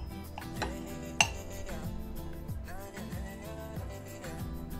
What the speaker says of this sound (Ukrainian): Знімаємо шпажки.